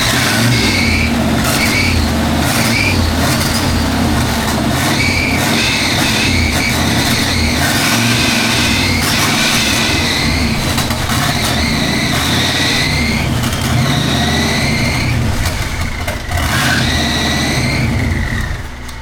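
A turbocharged car engine revs repeatedly, loud and close, its pitch climbing and falling as boost builds and drops with surging, plus whooshing turbo spool and flutter over a continuous roar.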